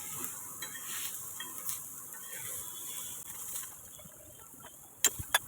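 Steady, crackly sizzle of spices tempering in hot oil, including garam masala, red chilli and turmeric, close by, with a couple of sharp clicks near the end.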